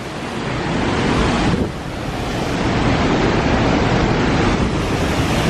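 A waterfall at a campsite roars close by in a steady, loud broadband rush with wind buffeting the microphone, continuous for the whole stretch and dipping only briefly.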